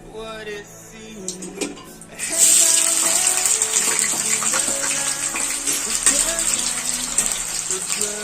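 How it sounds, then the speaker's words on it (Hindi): Potatoes fry in half a cup of hot oil in a kadhai, a steady loud hiss and sizzle that bursts in around two seconds and holds over low background noise. "एक कढ़ाई में मैंने आधे कप ऑयल को गर्म कर लिया। अब मैं इसमें आलू को फ्राई करूँगी।"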